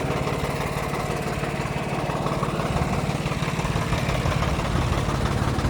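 A tractor engine idles close by with a steady low chugging rumble and rapid rhythmic knocking, continuous throughout without any voices.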